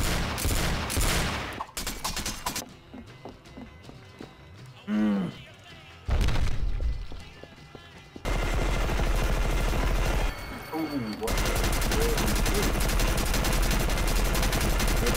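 Video game gunfire, bursts of rapid shots and loud blasts spread across the stretch, mixed with game sounds and a voice talking between volleys.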